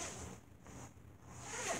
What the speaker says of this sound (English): And this one zips.